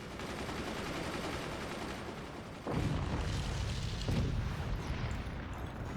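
Artillery and heavy cannon fire from the Forts RTS strategy game, a dense loud barrage of booming shots that steps up in intensity partway through, with no talk over it.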